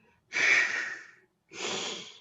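A person breathes in audibly, twice, to demonstrate inhaling. Each breath is a close, airy rush of about a second, separated by a brief silence.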